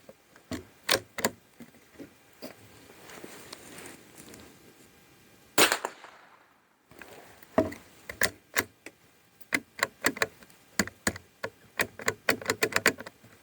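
A Norinco JW-15 .22 rifle fires Winchester Super X ammunition, giving sharp, loud cracks in irregular bursts of single shots spread across the clip, with a brief quiet gap midway and no talking.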